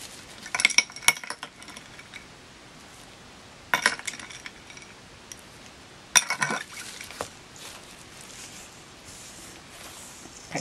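Flour, butter and cold water worked together for buko pie dough in a bowl, with three short bursts of clinking and scraping from a utensil against the bowl between quiet pauses.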